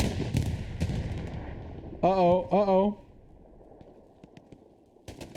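Artillery shelling in the World War II shooter Hell Let Loose: a distant explosion booms and rolls out at the start, later joined by a brief tonal two-part sound and sharp cracks near the end.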